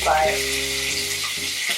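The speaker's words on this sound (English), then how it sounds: "just fry it until it's crispy golden brown" Oil sizzles and crackles steadily as chicken deep-fries until crispy, with a brief spoken word over the hiss.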